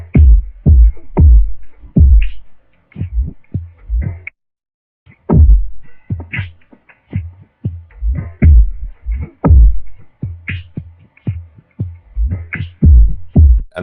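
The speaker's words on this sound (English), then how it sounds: "So I added a flanger here just for a bit of a wavy effect" A layer of pitched drum hits run through a flanger, with most of the highs and some of the lows cut. It gives muffled, wavy, throbbing thumps in an irregular rhythm with a short gap, close and alone, with no talking.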